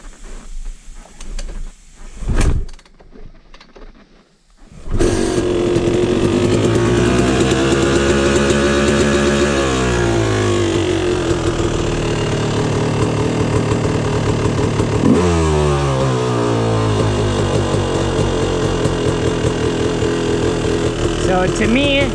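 A Yamaha YZ250 two-stroke dirt bike with its choke on cranks and fires up, then runs rich with a loud, rough idle and a few blips of revving up and settling back down.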